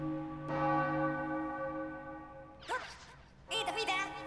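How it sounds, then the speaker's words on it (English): Wedding church bells ring in Super Mario Odyssey, a single loud tolling strike that sustains and slowly fades, followed by brief bursts of game sound effects. "Oh, the wedding bells."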